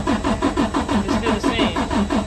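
Freightliner DD13/DD15 diesel engine with low fuel pressure cranking without starting: a steady, rhythmic starter-motor churn, about ten even compression pulses per second, loud and close, running the whole time with no catch.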